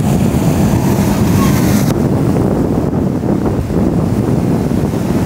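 A center console boat powers at full throttle through breaking waves into Jupiter Inlet, a loud continuous engine roar mixed with rushing water, surf and heavy wind buffeting the microphone.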